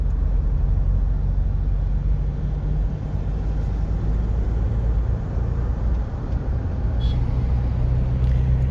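A Toyota Innova Crysta with a weak clutch rolls through a U-turn in second gear, its engine and road noise a loud, steady rumble heard from inside the cabin, with no talking.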